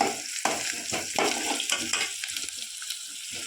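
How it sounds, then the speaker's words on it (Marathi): Garlic fries in a pan for a Konkan jackfruit vegetable dish, a close, crackling sizzle broken by repeated stirring scrapes that fade toward a quieter hiss. "लसूण चांगले भाजले ना"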